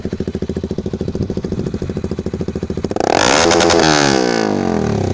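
A 2019 Honda CBR150R fitted with a homemade exhaust with a 2 mm steel baffle, idling with a steady pulsing putter before a sharp rev rises into a loud, sustained roar, close by.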